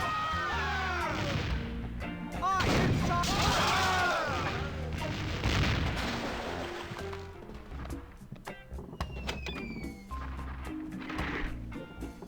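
Gunfire and booming blasts in The Curse of Monkey Island, dense and loud with repeated bursts over a busy game soundtrack, thinning into scattered shots and impacts toward the end.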